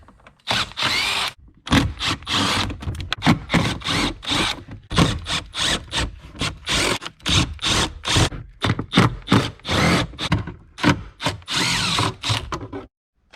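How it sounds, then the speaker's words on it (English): A power drill backs screws out of a car's glove box during a head unit installation, running in repeated short bursts with brief pauses between them, loud and close with no voices. "so now we just start taking all the screws off"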